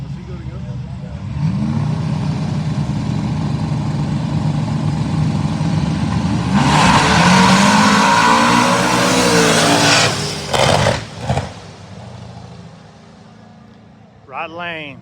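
Firebird race car launching in a no-prep street drag race, engine roaring loud and close as it accelerates hard for several seconds, then fading off into the distance as crowd voices and talk carry on.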